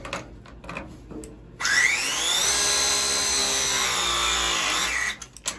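A handheld press tool crimps a copper pipe fitting for a water heater thermostatic mixing valve, giving a loud, steady motorized whine that holds for about three and a half seconds before cutting off, with quieter handling noises around it.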